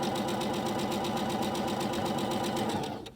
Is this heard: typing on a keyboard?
no